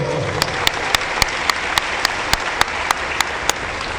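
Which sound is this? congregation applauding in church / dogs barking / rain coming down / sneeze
congregation applauding in church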